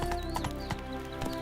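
Hooves of Roach, the horse in The Witcher 3, clop in a quick, close, rhythmic beat as he sets off, with a faint whinny-like tone above the steps.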